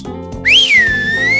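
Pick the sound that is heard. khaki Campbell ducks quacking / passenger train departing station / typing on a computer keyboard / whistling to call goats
whistling to call goats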